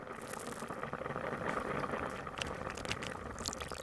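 Fresh termite mushrooms heat in a pan to make mushroom oil, with a soft, continuous sizzle and crackle of escaping moisture at low volume and no voices.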